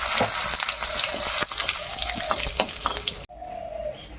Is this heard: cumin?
yes